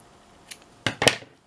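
Scissors snipping craft material with one light snip followed by two sharp, close cuts in quick succession, then quiet.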